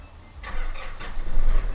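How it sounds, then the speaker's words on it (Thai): A 2018 Nissan Navara NP300 King Cab 2.5 pickup truck engine cranks and catches, then settles into a rumbling idle close by. "เดี๋ยวขออนุญาตสตาร์ทรถนิดนึงนะคะ"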